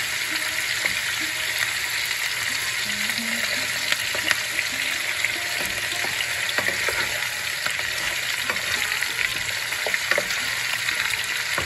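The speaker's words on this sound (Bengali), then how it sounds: "পরে পেঁয়াজটা দিচ্ছি। পেঁয়াজের কাঁচা ভাবটা চলে যাবে, ব্রাউন হবে না" Chopped onion frying in oil in a pan for Bengali cabbage ghonto, a dense, steady sizzle that runs the whole time with faint stirring scrapes and ticks, close and continuous with no voices.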